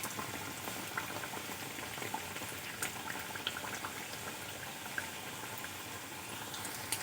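Snacks fry in hot oil, a continuous bubbling sizzle with scattered pops and crackles, steady and close.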